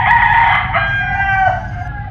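Chickens at a farm where chicks have just hatched, with a rooster's loud close crow and clucking fowl filling the moment over a low background rumble.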